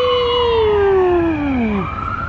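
A wailing ambulance or police siren in New York City sweeps downward in pitch, loud and clear, with a second tone rising near the end.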